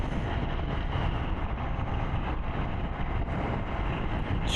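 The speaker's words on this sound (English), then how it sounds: "Of course, it's windy as hell today." Steady wind buffets the microphone with a constant low roar, mixed with a droning Indian Scout 101 motorcycle engine rumble throughout.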